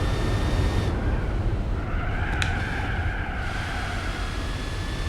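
A race car engine in the video game Gran Turismo 4 drones at a steady, high-revving pitch throughout, with a brief squeal of tires partway through.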